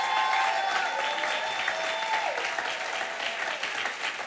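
Church congregation clapping and cheering for Jesus during a televised worship service, a dense, sustained wave of applause with a crowd roar that stays loud throughout, and no speech over it.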